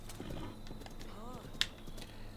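A horse's hooves clip-clopping in the video game Breath of the Wild, faint soft rhythmic steps with a sharp chime-like click, under quiet talk.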